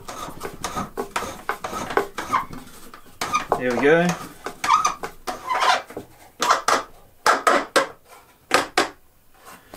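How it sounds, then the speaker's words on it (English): A screw driven into a handmade wooden carving stand creaks and squeaks in uneven bursts, with short knocks of wood and a voice speaking briefly over the work. "So it's going to be a little bit squeaky, but hopefully you can see as the screw goes in how these two posts are brought together."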